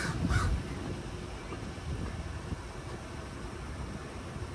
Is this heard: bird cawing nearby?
yes